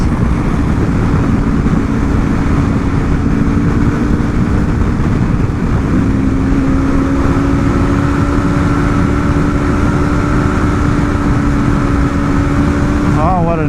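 Aprilia RSV4 2024 sport motorcycle engine droning steadily at speed with rising tonal pitch as it accelerates, heavy wind rush throughout and a rider's voice faintly mixed in.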